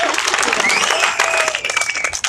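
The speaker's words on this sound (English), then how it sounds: "We'll give another round of applause for Raymond." A crowd at a mission event claps in a dense round of applause, with excited voices and a few whoops rising over the clapping throughout.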